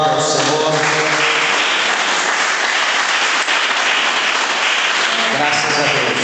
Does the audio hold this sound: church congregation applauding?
yes